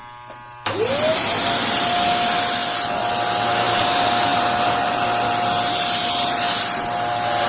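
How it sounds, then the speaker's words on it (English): A loud, steady motor whine of a vacuum attached to an electric fur trimmer starts suddenly and runs continuously, with a high electric hum layered on top and a rising pitch at the start. "But if I turn on the vacuum,"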